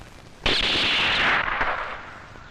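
A single sharp gunshot at target practice cracks loudly and decays in a long echoing rumble over about two seconds.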